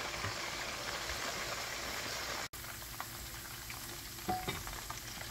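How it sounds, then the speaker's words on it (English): Fish balls deep-frying in palm oil give a loud, dense, continuous bubbling sizzle up close, broken by one brief dropout midway before the steady roar resumes. "to fry the fish ball, it's better you do deep frying"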